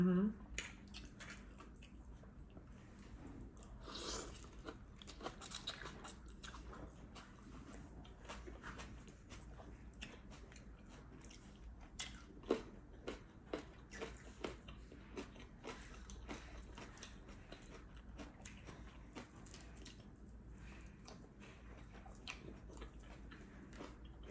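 Close chewing of a spicy pickle, repeated wet crunchy bites and soft mouth sounds in a steady rhythm, with faint background noise and no clear talking.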